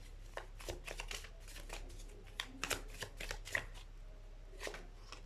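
A deck of tarot cards is shuffled by hand in a run of quick riffling flutters and soft snaps, close and faint with brief pauses between bursts.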